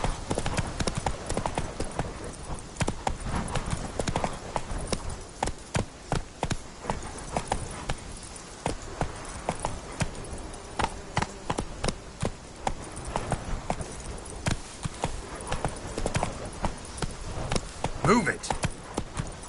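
Roach the horse in The Witcher 3 makes rapid, regular hoofbeats that run without pause as a loud, close clip-clop rhythm, with occasional voices in the background.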